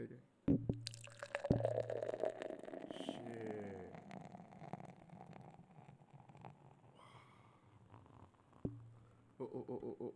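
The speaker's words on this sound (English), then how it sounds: "pouring beer on the mug" Beer pours into a mug in a quiet room, a trickling, bubbly stream with a few sharp clinks at the start and end, while people talk softly over it.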